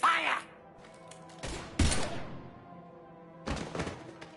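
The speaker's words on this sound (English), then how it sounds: "Now open fire!" Gunfire in the Mass Effect 3 video game, a few loud sharp bursts and thuds at irregular intervals with ringing decay between them, close and prominent with no talk over it.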